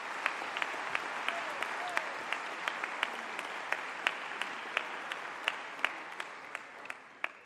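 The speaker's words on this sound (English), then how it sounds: "Gentlemen, you all should give yourselves a round of applause." Graduates and guests at a Queen's Royal College graduation ceremony give a steady round of applause, a dense wash of clapping with a few sharper individual claps standing out, moderately loud and continuous throughout.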